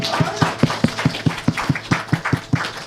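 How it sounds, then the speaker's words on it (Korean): Congregation in a church clapping together in a steady, even rhythm, about four claps per second, moderately loud and close, with no talking over it. "우리 하나님께 영광의 박수 올려드립니다."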